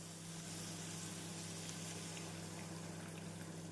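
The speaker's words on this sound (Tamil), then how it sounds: "இந்த சமயம் நாம் புளி தண்ணீரை சேர்த்து விடலாம்." Tamarind water poured into tomato and spice masala in a hot pan while cooking dried anchovy thokku, giving a steady, loud sizzle and frying hiss that holds throughout with no talk.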